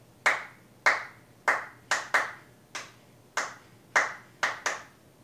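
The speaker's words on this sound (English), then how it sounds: "We clapped it first, so let's just remind how we clap it." Single pair of hands clapping the Lindy Hop eight-count rhythm, ten crisp, close claps with uneven spacing including quick doubled pairs, each ringing briefly in a quiet room.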